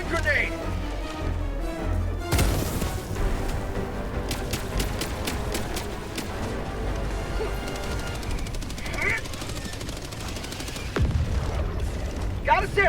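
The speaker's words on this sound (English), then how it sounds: "Throwing grenade." A grenade thrown and going off in Helldivers 2 amid ongoing combat: a sharp, heavy blast, surrounded by rapid bursts of gunfire, booms and game chatter voices layered throughout the busy battle mix.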